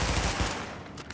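Rapid automatic fire from an MP5 submachine gun in a shooter video game, a dense continuous burst of shots that is loud and close.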